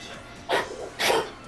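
Two quick, breathy sneezes burst out close to the microphone about half a second apart, each a short noisy puff over a quiet background, with no talking.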